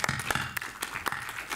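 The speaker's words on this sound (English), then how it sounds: "Please give a very warm and welcoming applause for Vlad." Sparse clapping welcomes a speaker before a Scala programming talk, with a few distinct loud claps standing out over lighter scattered hand claps, brief and fairly close.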